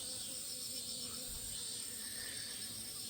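An Asian giant hornet stuck on a rodent glue trap gives a steady, fairly faint insect buzz that drones on without a break, with no voices over it.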